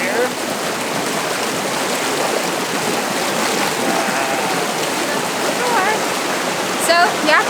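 A waterfall at Mount Rainier National Park on a shaded day hike pours in a steady, close, full-bodied rush of falling water, unbroken throughout, with a few faint higher sounds near the end.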